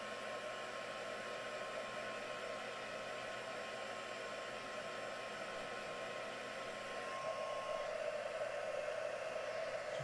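A hair dryer blows steadily and fairly quietly as it dries a freshly made demonstration piece, its even whoosh broken only by a slight rise in level near the end.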